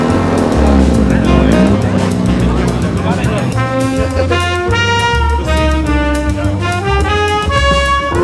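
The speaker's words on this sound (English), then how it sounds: "As soon as the E9X BMW stops revving, I will explain." Loud, sustained engine revving from an E9X BMW at an outdoor car meet, with rising and falling harmonic tones close by over a noisy background.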